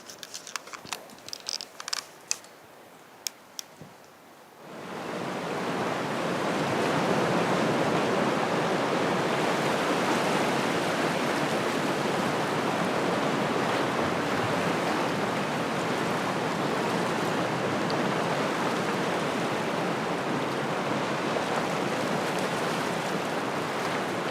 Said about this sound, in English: the sound of the waves crashing against the island over there, It sounds like an orchestra